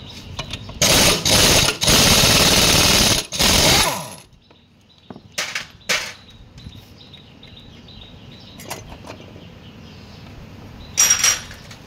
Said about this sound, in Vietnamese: Rồi chúng ta bắn con ốc 22 này nhé.